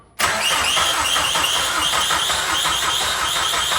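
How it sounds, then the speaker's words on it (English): A Vauxhall Astra J VXR engine cranking during a compression test on a non-running car, a steady, rapid, loud mechanical churn that starts abruptly and continues without firing, with no talk. "Can we just have another few seconds, just crank please, Carl?"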